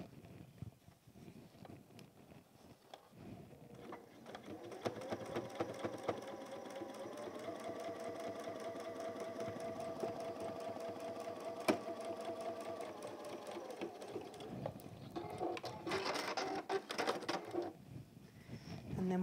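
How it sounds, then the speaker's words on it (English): A home sewing machine runs at low volume, stitching across the rice-filled feet of a Tilda goose toy in one long steady pass with faint rattling toward the end. "I'm just going to sew across there to just hold that"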